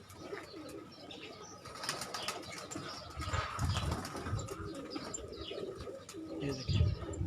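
A golden pigeon coos softly at a distance on a rooftop loft, with chirps, faint wing flaps and a low murmur of background noise.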